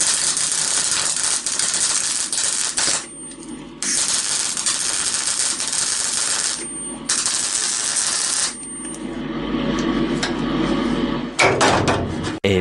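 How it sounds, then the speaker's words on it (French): Plug welding on a car's wheel-arch body sheet metal, the welder's crackling arc burning in loud bursts of roughly two to three seconds, broken by short quiet pauses as each plug weld is filled, ending with clattering metallic handling. "maintenant je vais souder par bouchonnage"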